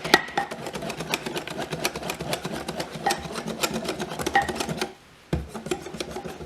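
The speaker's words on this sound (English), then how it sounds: "you just want to mix it all up really good because you don't want the clumps" Buckwheat pancake batter whisked in a bowl for ploye pancakes, making rapid, repeated scraping and clicking strokes for about five seconds, then a brief pause before the stirring resumes. No voices.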